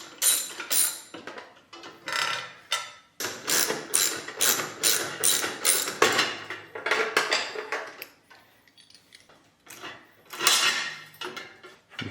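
Rapid metallic ratcheting and clicking bursts as a nut is worked loose with a 3/16 Allen key on the sissy bar of a 2006 Harley-Davidson Sportster, close and fairly loud, with brief pauses and no talking.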